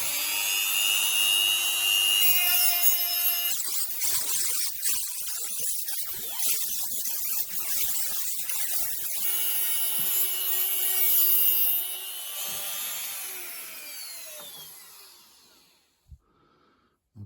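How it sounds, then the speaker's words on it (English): A precision rotary cutting tool cuts through material clamped in a vise, removing everything below a one-centimetre line. It gives a loud, steady, high-pitched whine with a gritty grinding edge that shifts under load, then spins down and stops near the end. "my precision rotary cutting tool to remove the material below this 1 centimetre line"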